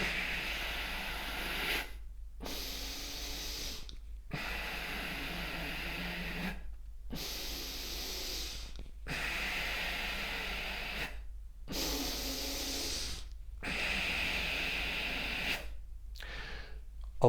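Forceful kundalini yoga belly breathing done while holding a root lock: long, loud, hissing breaths of about two seconds each, separated by short silent gaps. A steady, fairly quick rhythm of roughly eight breaths plays with no other sound.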